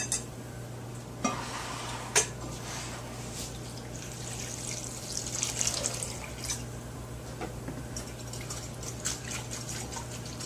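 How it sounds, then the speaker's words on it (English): Onions rinsed under running water at a kitchen sink give a quiet, continuous splash and trickle, with occasional sharper knocks and clinks and a low steady hum beneath. "Just a nice quick rinse."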